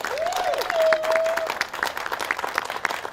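An audience at a city hall bill signing applauds city directors and staff, a lively round of clapping with scattered sharp claps, a brief whistle and crowd murmur underneath.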